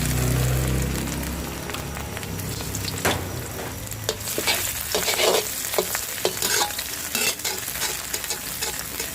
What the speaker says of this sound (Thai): หลังจากใส่น้ำมันลงไปแล้วค่ะ ก็ใส่เห็ดหอมลงไปผัดเลยค่ะ